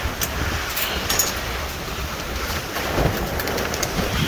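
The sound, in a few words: rain falling in strong wind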